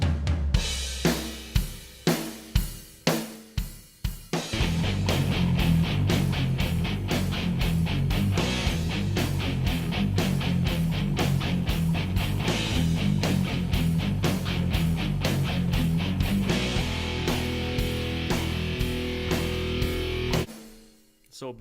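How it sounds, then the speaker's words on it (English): A Superior Drummer fusion kit with 10- and 12-inch toms, a 14-inch floor tom and two or three cymbals, played close and loud: a few spaced hits at first, then a steady driving groove with busy cymbals that fades out at the end. "It's just a fusion sizes, 10, 12, and 14 floor tom with just 2 or 3 cymbals, and this is how it sounds right off the box."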